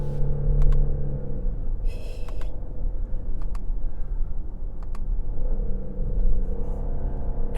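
A 2022 Genesis GV70 AWD 3.5T Sport Prestige twin-turbo engine under way, a deep steady rumble that rises and falls with gear changes, with road and wind noise beneath.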